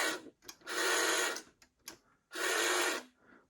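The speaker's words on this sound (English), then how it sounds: "That's the sound of the Millennium Falcon." A Kenner Millennium Falcon toy gives a scratchy, squeaky mechanical whir in two longer bursts, with shorter clicks and rasps between them, close and fairly quiet.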